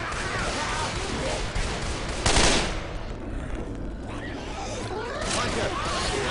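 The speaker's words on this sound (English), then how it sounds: "Shoot that zombie in the back." Sustained rapid gunfire from Left 4 Dead 2 as a zombie is shot in the back, a dense rattling barrage running the whole stretch with a louder burst midway, busy game noise throughout.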